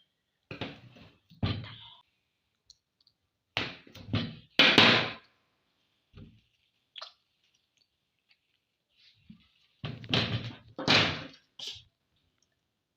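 A knife works through a hard block of homemade brown soap in a few separate bursts of scraping, crunching cuts with quiet pauses between them, close and dry.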